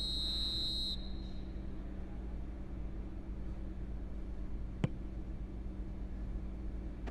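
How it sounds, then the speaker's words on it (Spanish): A referee's whistle sounds once, short and fairly clear, at a World Cup qualifier between Ecuador and Colombia at Estadio Rodrigo Paz Delgado. A steady crowd roar from the stadium continues underneath the whistle and through the rest of the clip. "Suena el silbato y tiene toda la pinta de fuera de juego."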